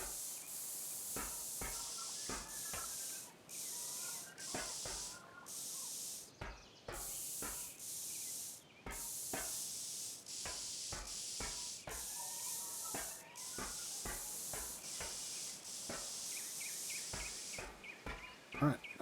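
Repeated short hissing spray bursts from spray painting a Scavenger vehicle in a video game, irregular puffs separated by brief gaps over a steady faint background, with scattered clicks and no one talking.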